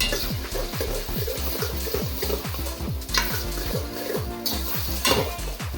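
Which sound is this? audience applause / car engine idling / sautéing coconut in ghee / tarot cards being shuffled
sautéing coconut in ghee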